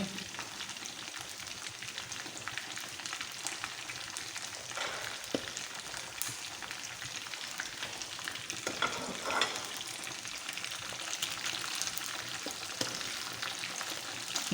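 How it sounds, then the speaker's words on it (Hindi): Chicken wings coated in cornstarch and flour sizzle steadily in a pan over medium heat, a dense, even crackle that runs the whole time with occasional stirring scrapes and no talking. "इसको दरमियानी आंच पे जल्दी से पका के निकाल लेंगे, बहुत देर फ्राई नहीं करेंगे"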